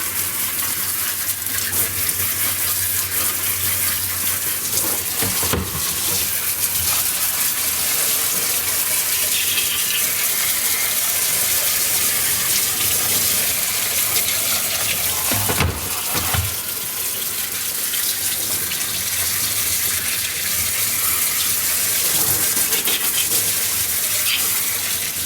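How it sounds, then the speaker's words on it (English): Water runs and sprays steadily over an arcade monitor chassis during cleaning, a constant, close rushing hiss with a couple of brief splashy bursts. "Okay, now we'll give this a wash again"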